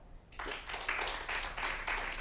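A late-night comedy show audience bursts into a round of applause, fairly faint and steady for about two seconds after a brief quiet start, with no voices over it.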